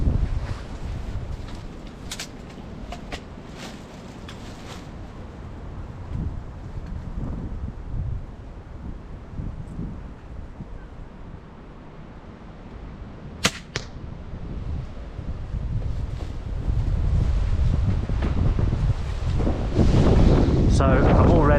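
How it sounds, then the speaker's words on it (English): Gusty wind buffets the microphone with a low rumbling roar, swelling louder toward the end, broken by a few sharp snaps and clicks. "it's quite windy"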